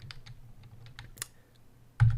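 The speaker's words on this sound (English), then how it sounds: "I'm just typing code to the shell" Someone types code into a Python shell on a computer keyboard, a quick irregular run of close, crisp key clicks that ends with a heavier thump of a larger key.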